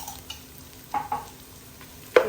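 Ginger garlic paste frying in a pan with browned onions, a soft steady sizzle under a few scraping spoon strokes, ending in a sharper clink against the pan; close and clear, no talk.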